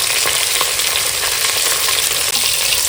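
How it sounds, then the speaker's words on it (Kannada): Onions and green chillies frying in a pan for home-made chicken biryani give a loud, continuous close-up sizzle with faint stirring texture throughout, and no one speaks. "ಈರುಳ್ಳಿ ಮೆಣಸಿನ್ಕಾಯಿನ ಚೆನ್ನಾಗಿ ಫ್ರೈ ಮಾಡಬೇಕು, ಗೋಲ್ಡನ್ ಬ್ರೌನಿಶ್ ಕಲರ್ ಬರಬೇಕು, ಫ್ರೈ ಮಾಡಬೇಕು."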